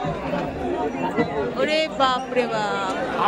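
Packed local train compartment near Sheoraphuli, crowded after an earlier train was cancelled: a thick babble of many overlapping voices fills the space, while one close voice exclaims loudly over the chatter.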